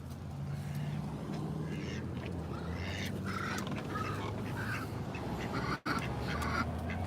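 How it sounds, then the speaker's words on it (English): A group of farm ducks quacks steadily and loudly close by, a busy overlapping chorus of calls over a constant rumbling background. "And those are my ducks right there"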